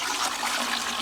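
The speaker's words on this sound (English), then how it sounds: "So we'll pour this somewhere here, and then we'll sieve again." Ginger drink liquid poured through a sieve, a short, steady splashing gush of liquid that stays loud and continuous for about a second, with no talk.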